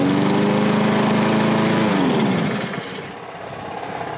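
A lawn mower engine running on windshield washer fluid roars loudly and steadily nearby, then its pitch drops and the sound fades to a quieter rattling idle as it winds down.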